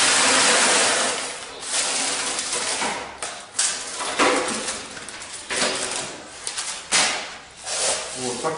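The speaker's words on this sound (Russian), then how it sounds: "Сейчас мы зафасуем несколько сыпучих доз, посмотрим, как работает этот станок. Вот, попробуем на пшенице." A bag-forming and sealing packaging machine portions loose wheat, giving a steady mechanical clatter and rattling hiss with repeated rhythmic cycles of louder thumps and surges over several seconds, fairly close and without speech.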